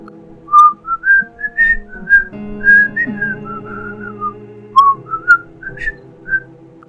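Someone whistles the Doraemon theme tune, a clear, close melody of short rising and falling notes in a lively rhythm over a soft musical backing, with no talking.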